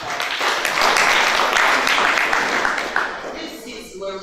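Audience applause at a university human rights competition, a dense wash of many hands clapping that holds steady and loud for several seconds before thinning toward the end.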